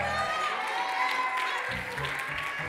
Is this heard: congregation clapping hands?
yes